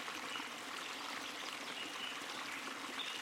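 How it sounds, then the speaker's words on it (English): Water splashing and running in a steady, continuous wash, like a stream pouring over rocks, evenly loud throughout with no voices. "You hear a great splashing sound behind you"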